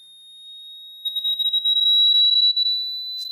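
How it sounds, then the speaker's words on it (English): An Arduino Esplora board's small buzzer sounds a thin, steady electronic tone that strains and wavers as it climbs higher in pitch, alone and fairly close. "you can hear the speakers actually struggling, or the buzzer is actually struggling to make that noise"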